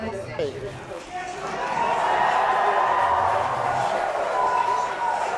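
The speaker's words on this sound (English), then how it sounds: "you can hear some really loud cheering in the room" A crowd cheers loudly in a room during a live card-pack giveaway stream, starting quieter and swelling into a sustained roar after a couple of seconds, with voices talking over it.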